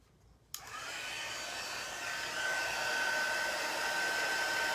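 A hair dryer switches on abruptly after a moment of quiet and runs with a steady, loud whoosh, drying chalk paste on a craft transfer; its pitch rises slightly partway through.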